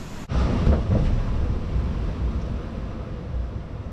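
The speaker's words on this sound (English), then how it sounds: "It's raining, it's windy" Loud wind buffets the microphone outdoors while sea fishing in the rain, a heavy, rumbling roar with a steady rush of rain noise throughout.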